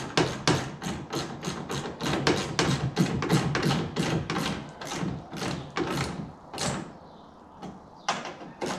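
Tightening 8mm bolts on a tailgate assist on a 2018–2020 Ford F150: a steady train of sharp, evenly spaced clicks and taps, close and fairly loud, running for several seconds with a short pause near the end.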